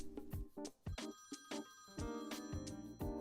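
A telephone rings in a repeating electronic ringtone pattern, a series of short tonal bursts and held notes, clear and alone with no voices over it.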